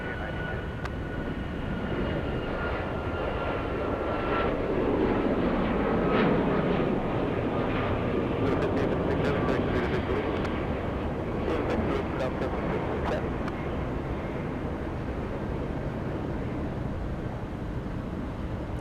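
A Frontier airliner lands at Atlanta Hartsfield-Jackson airport, its jet engines and rollout producing a long, loud, steady roar for nearly twenty seconds, with faint radio-style voices underneath.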